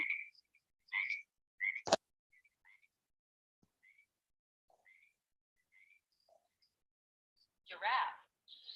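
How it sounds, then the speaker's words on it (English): A frog croaks in short scattered bursts with quiet gaps between them, faint and somewhat distant, and a louder rasping call comes near the end. "It's a frog, right? Even the frog sound, see?"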